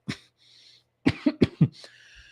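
A man coughs several times in a row, sharp, close, harsh bursts in a quick rhythm after one isolated cough, with a brief throat-clearing rasp in between.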